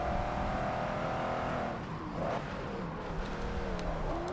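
A racing car engine in the Forza Motorsport 7 video game roars steadily and close, with shifting revs and a brief tire squeal in the middle.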